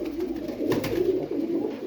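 Pigeons cooing softly nearby, a few low repeated coos in steady rhythm over quiet background, without any voices.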